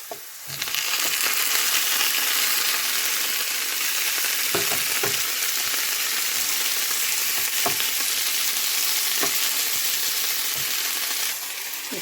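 Tomatoes sizzle and fry in a hot pan with onion, garlic and ginger for a vegan mushroom soup, a dense steady crackle with occasional clinks of stirring throughout.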